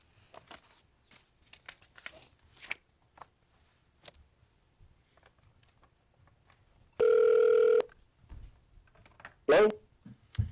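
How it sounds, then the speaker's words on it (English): An office phone dials into a hearing room, a single loud steady tone lasting under a second followed by a short burst of tones, with quiet shuffling and faint murmurs around it. "we'll dial in if that comes up, but White needs to use the phone as well"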